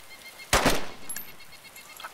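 Gunfire in the survival video game DayZ while fending off a zombie: a short, loud burst of shots around the midpoint, standing alone over quiet background with a brief sharp sound at the end.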